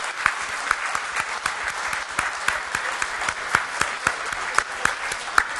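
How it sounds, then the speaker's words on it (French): An audience at a charity auction applauds steadily, a dense, even clatter of many hands clapping with a few sharper claps standing out, continuing throughout. "Et vous pouvez applaudir tous les généreux donateurs."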